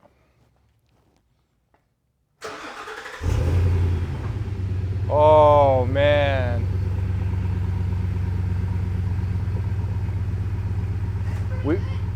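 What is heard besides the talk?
pickup truck engine starting with new exhaust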